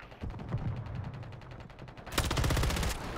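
Rapid, evenly spaced automatic gunfire rattles throughout in the Call of Duty video game, starting at moderate volume and turning into a louder, harsher burst partway through.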